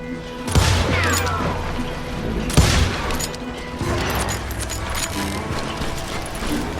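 Western gunfire in the video game Call of Juarez Gunslinger: a couple of sharp, booming shots stand out over a dense, rumbling background of game sound effects.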